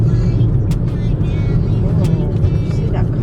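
A car driving past on a road near a closed road sign on an overcast day, a steady loud engine and tyre roar close by throughout, with people talking over it.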